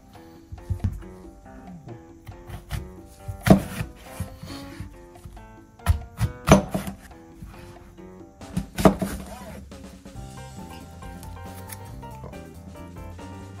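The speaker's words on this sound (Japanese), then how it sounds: "じゃあリンゴ切っていきます。" A knife cutting Fuji apples on a cutting board, crisp crunches and solid wooden knocks repeating unevenly up close, with a mellow tonal background running underneath throughout.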